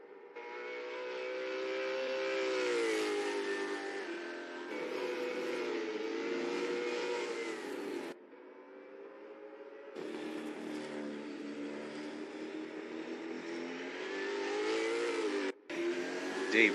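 Race cars lapping in a virtual racing game, a steady loud engine drone rising and falling through gear changes, with abrupt cuts between cars and no talk.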